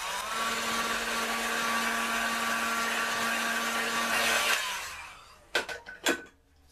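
A heat gun or dryer blows a loud, steady whine over a hand-made screen-printing ink gradient, then winds down and cuts off, followed by a few sharp clacks.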